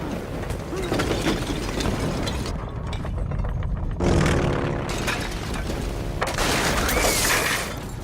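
A military aircraft on a test flight suffering an engine malfunction in a movie crash scene over Beverly Hills, a loud, continuous roaring and rattling mechanical din with crunching impacts, dense and close throughout.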